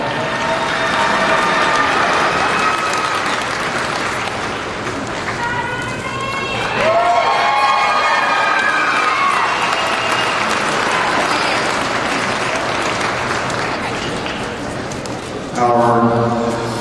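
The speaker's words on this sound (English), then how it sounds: "Let's give him another big round of applause." Crowd at a national livestock market hog show applauding the grand champion in a broad sustained wash, with someone talking over the clapping on a loudspeaker and a short burst of louder clapping near the end.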